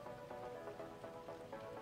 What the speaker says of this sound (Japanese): 現在も雨が続いています。